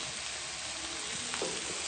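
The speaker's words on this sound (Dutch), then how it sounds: "We draaien nogmaals het spek en dan ziet men dat nu dat een mooie kleur bekomt." Bacon fries slowly in a pan, giving a steady, soft sizzle and crackle that fills the whole moment without any talk.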